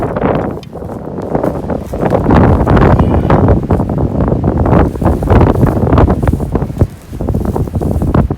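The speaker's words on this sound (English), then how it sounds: "The wind is super bad." Strong gusts buffet a microphone outdoors in Arizona desert terrain during a Memorial Day shed hunt, a loud rumbling roar that swells and dips continuously across the clip, with no voice over it.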